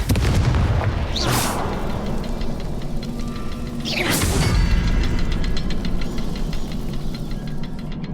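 Repeated Confringo fire-spell blasts in Hogwarts Legacy gameplay: two sharp booming explosions with long rumbling tails over a constant loud roar of game ambience and music.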